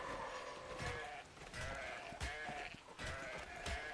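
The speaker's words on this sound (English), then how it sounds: "Ooh, sheep. There's more sheep." Sheep in the game Ark Survival Ascended bleat several times in uneven bursts over a busy game backdrop, fairly quiet and with no talk over them.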